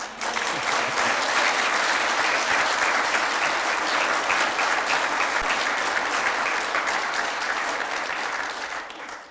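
An audience at a council inaugural meeting claps in sustained, dense applause that stays loud and even throughout before tapering off at the very end.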